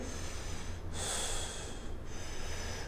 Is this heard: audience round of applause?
no